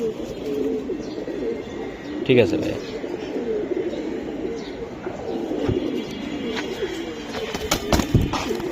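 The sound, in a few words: female pigeons cooing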